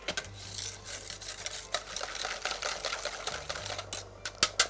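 Agar-agar is whisked into a sugar and egg mixture, producing rapid, repeated scraping and rasping strokes of close, moderately quiet mixing throughout.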